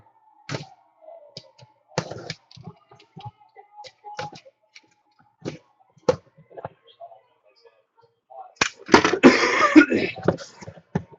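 A few short, dry coughs scattered through quiet stretches, building to a louder bout of harsh coughing and throat clearing near the end.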